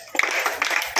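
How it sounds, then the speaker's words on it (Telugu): A burst of hand clapping from an audience cheering prize winners at a Sankranti rangoli (muggulu) contest for women, brief and fairly loud, rising sharply and running on. "big hands your claps"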